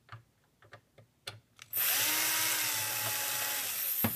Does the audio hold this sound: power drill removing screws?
yes